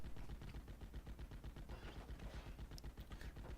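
Machine gun fire in the WWII strategy game Steel Division: Normandy 44, rapid repeated bursts of gunshots at a fairly faint level, a rattling continuous rhythm with no talking.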